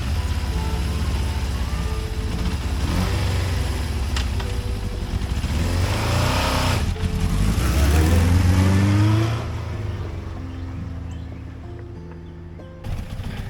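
Vintage motorcycle, a Honda or Suzuki, revving and straining up a steep driveway, its loud engine rising and dropping in bursts before easing off near the end.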